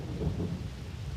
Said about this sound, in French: chassé par un violent orage